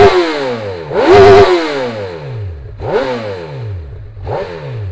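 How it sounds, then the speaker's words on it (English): A Honda CB1000R inline-four motorcycle engine revs hard three times in quick succession, each blip climbing sharply then falling back toward idle, loud and close with no talking. "Listen to that inline 4 goodness"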